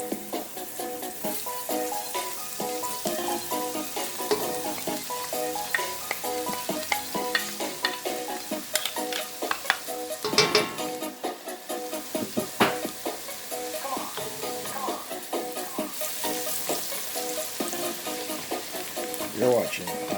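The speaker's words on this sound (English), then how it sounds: "Now I'm going to add some garlic." Garlic frying in oil for Jamaican curry goat, a busy close sizzle and crackle with frequent stirring scrapes and clatters of a spoon against the pot, no voices.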